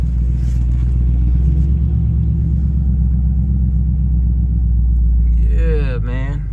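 A Chevrolet Camaro, reportedly prone to breaking down, rumbles steadily from inside the car while driving, with a deep, constant engine drone and a voice that briefly joins near the end.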